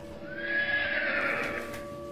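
A horse whinnies loudly and clearly during a spooky carriage ride in a video game, its high neighing call rising and falling over about two seconds, with faint clip-clop of hooves underneath and no talking.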